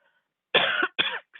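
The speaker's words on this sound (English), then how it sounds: "Sorry for coughing." A person breaks into two harsh coughs close to the microphone, each a short rasping burst after a moment of silence, with a faint trailing sound at the end and no talk.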